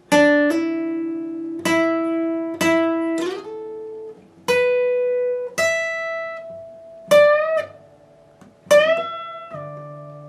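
Part 3 of a guitar lead on electric guitar: about nine picked notes in a slow, spaced phrase, several bent upward, each ringing and decaying before the next, clean and close with no voices.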